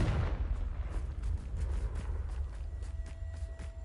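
A Confringo explosive spell blast in Hogwarts Legacy opens as a loud, booming burst, then settles into a rumbling low decay with scattered crackles and light thuds.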